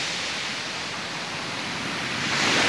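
Large ocean waves surge onto a beach as a steady, loud broadband roar that swells slightly near the end, with no voices present.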